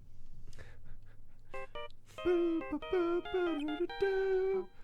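A synthesized electronic ringtone from the video game Phoenix Wright: Justice for All plays a short bright melody of beeping tones, preceded by a few faint clicks.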